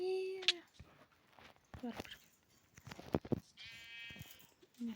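Sheep bleat in the video game Minecraft, short nasal calls repeating over a few seconds among soft game footsteps and clicks, while a person talks over them.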